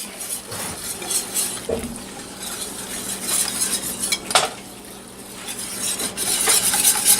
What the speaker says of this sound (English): Whisk that up.